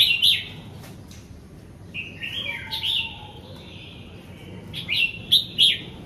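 Caged songbirds chirp in clear, high trilled phrases, close and fairly loud, with short bursts separated by brief quiet gaps and a soft background hiss.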